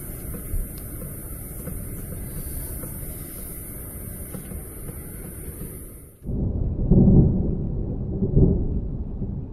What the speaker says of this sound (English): a thunder and lightning storm